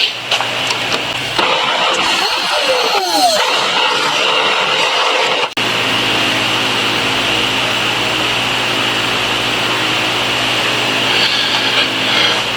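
A milling machine cuts a notch in aluminum for a GS1100 bobber build, producing a loud, continuous high-pitched whine. The cut is uneven at first and then settles into a steady, sustained tone.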